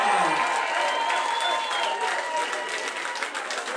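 A studio audience at a radio station's live band demo contest finale applauds continuously with some cheering, a dense, loud wash of clapping throughout.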